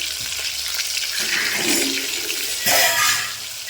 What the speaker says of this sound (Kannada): ಗೋಲ್ಡನ್ ಕಲರ್ ಬರ್ತಾ ಫ್ರೈ ಮಾಡ್ಕೊಳ್ರಿ